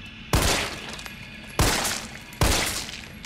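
Three sharp, loud gunshots from Resident Evil 3 gameplay on PS4 ring out at uneven intervals, each followed by a short echoing decay.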